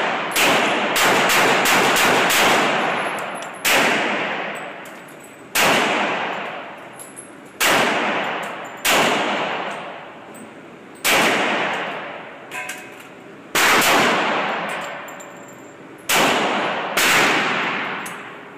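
Gunfire at a pumpkin shootout at an indoor range: a quick early volley of sharp cracks, then single loud shots every second or two, each with a ringing metallic tail.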